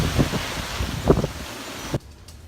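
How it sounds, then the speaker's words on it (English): Strong Hurricane Irma wind gusting outdoors, loud buffeting rumble hitting the microphone in surges for about two seconds before cutting to near quiet. "you can see that's the wind blowing in"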